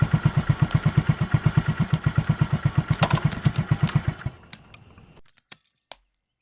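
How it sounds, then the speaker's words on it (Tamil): A vehicle engine idles with a regular, loud, low thumping pulse, roughly eight beats per second, then shuts off around four seconds in, leaving a few faint clicks and rattles before silence. "கொஞ்சம் வண்டி நிறுத்த"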